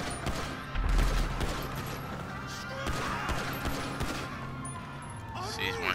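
Gunshots in the video game GTA 5 Online, several sharp cracks scattered across a busy game soundscape with a heavier burst early on, at moderate loudness, while someone talks over them.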